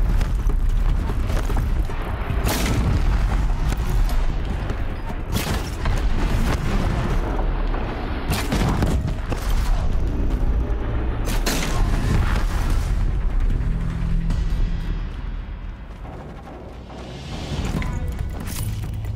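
Explosions in the video game Horizon Zero Dawn boom repeatedly, heavy loud blasts layered over rumbling and clanking mechanical noise, dense and continuous for much of the stretch and dipping briefly near the end.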